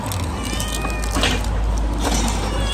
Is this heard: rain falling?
no